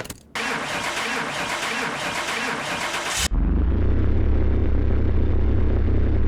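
A car engine in the video game Car Mechanic Simulator 2021: a loud, rough starter cranking for about three seconds cuts off, then the engine catches into a steady, deep, droning idle, up close.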